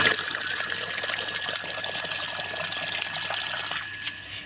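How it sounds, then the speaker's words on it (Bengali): Water runs steadily from a motor-pumped tap at a village home, a continuous close splashing gush with no pauses that eases slightly near the end. "এখন আসলাম কলে জল নেওয়ার জন্য। এই মোটর দিয়ে আমাদের জল নিতে হয়।"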